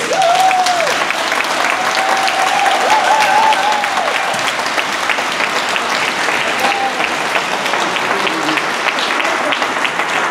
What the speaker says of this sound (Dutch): Een groot applaus voor Johanna Terstegen.